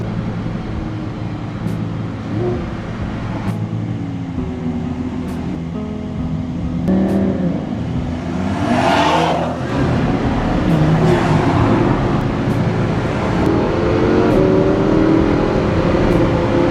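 Cars in summer beach traffic heading toward a boardwalk and island, engines idling and rolling close by with a vehicle accelerating and passing midway, steady road rumble throughout.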